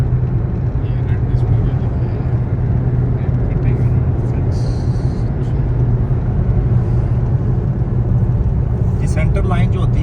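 A car cruises on the highway from Rabigh to Jeddah in Saudi Arabia, a constant loud road and engine rumble heard from inside the cabin, with someone talking over it.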